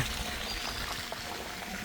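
Floodwater pours and trickles steadily out of a flooded house courtyard into the lane, a continuous close splashing flow with no talk over it.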